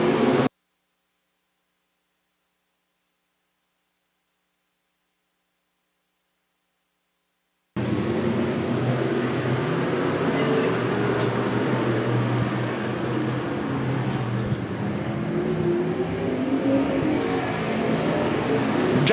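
A field of race cars at Winston Speedway accelerates at the green flag. After a long stretch of near silence, a dense, steady roar of engines bursts in and stays loud until the end.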